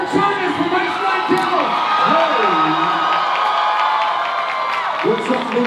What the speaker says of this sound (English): let's give an even louder welcome to Spencer Chalmers from Heimbach.